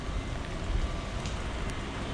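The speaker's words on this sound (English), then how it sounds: "This is no worse than the rain we've had in the parks." Steady rain in the aftermath of Hurricane Ian at Walt Disney World, a dense, even wash of falling water with no pauses and no voices.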